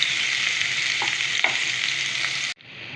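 A ground paste of onion, garlic, ginger and tomato with chili and coriander powders fries in a pan, giving a steady, loud close sizzle that cuts off abruptly near the end, with no voices.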